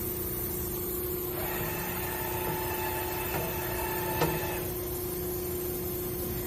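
Sunrise linear channel punching machine shifting to its low position: a quiet whirring motor tone running for about three seconds over a steady electrical hum, ending with a small click.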